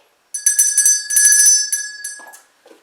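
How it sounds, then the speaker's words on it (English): A large bell rings out in several loud, resonant strikes, its bright overtones ringing on and slowly fading, followed by a few softer clanks. "I hear the Liberty Bell ringing."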